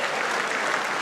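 Applause for King Charles during his address to the US Congress: a dense, continuous crowd clapping, loud and steady throughout, with no break or voices standing out.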